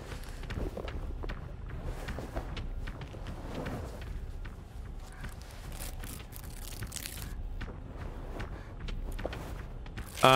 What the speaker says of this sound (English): monsters will learn how your footstep sound changes